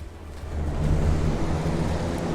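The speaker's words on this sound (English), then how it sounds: "Well, it's wind, right? Can you see it blow the papers just now?" A steady rush of air blows across a sheet of papers, swelling after a quieter start into a continuous, wind-like roar with a low rumble, close to the microphone and without voices.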